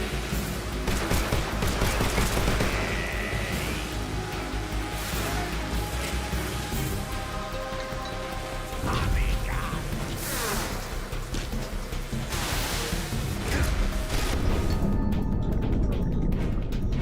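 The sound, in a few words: grenades exploding and gunfire in a video game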